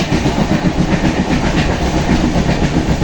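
A sleeper train runs on the rails between Mumbai and Udupi, heard close and loud as a dense, continuous rumble with steady rhythmic clatter from the wheels.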